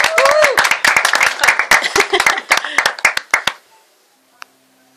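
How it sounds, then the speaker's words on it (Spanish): A short burst of enthusiastic clapping from a small crowd, sharp and close, stopping abruptly after a few seconds. "os pido un aplauso para él"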